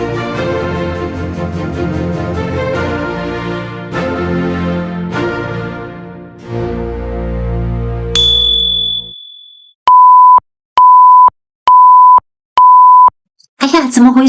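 A drone's low-battery warning sounds in flight as four evenly spaced loud electronic beeps following a stretch of music, each a steady tone with short gaps between.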